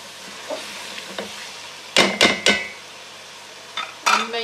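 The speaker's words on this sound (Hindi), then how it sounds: "थोड़ा सा मैं मसाले के साथ इनको भून लूँ" Seekh kebabs are fried in a pan with masala, curd and lemon juice. A low sizzle runs beneath sharp spatula scrapes and metallic clanks that come in quick clusters.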